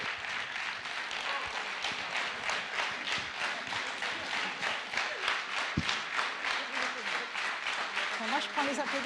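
Audience applause at a climate finance conference event, a dense steady wash of clapping that fills the whole stretch, with some voices mixed in beneath it.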